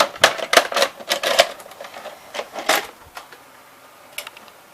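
A tape goes into a Fisher FVH-907 two-head VCR with a series of loud, close mechanical clacks and clunks from the loading mechanism, bunched early and then spacing out into a few scattered clicks.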